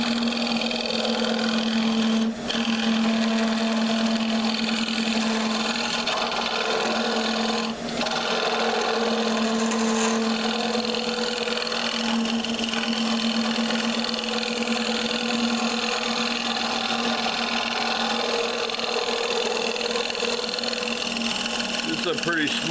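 A bench grinder runs steadily as it puts a fresh burr on a small woodturning scraper, a continuous loud whirring hum that persists for the whole stretch, with brief interruptions as the tool touches the wheel.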